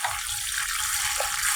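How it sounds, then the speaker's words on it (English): Tap water runs steadily over vegetables being washed in a sink for kimchi, a continuous close splashing hiss with slight shifts as the produce is moved under the stream. "you use running water and wash it"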